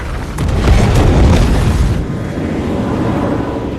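A suicide truck explodes in a military action film, a loud, deep blast rolling into a sustained roaring rumble that eases slightly after two seconds and keeps burning on steadily.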